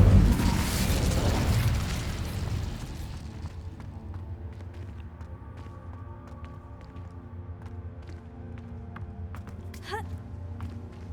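A fire spell, Incendio, cast in the game Hogwarts Legacy, erupts as a loud, roaring burst of flame for the first few seconds, then dies down into quieter ambient game sounds with a few faint ticks and a brief rising tone near the end.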